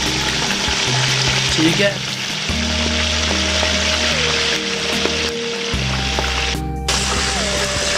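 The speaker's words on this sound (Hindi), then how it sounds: "दोस्तों घी हमारा बहुत गर्म हो गया है तो पीस हमने डाले हैं।" Chicken pieces fry in very hot ghee for chicken korma with a loud, steady sizzle and some bubbling and stirring, close up, while a voice briefly speaks over it.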